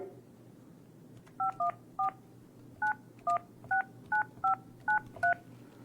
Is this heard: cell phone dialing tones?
yes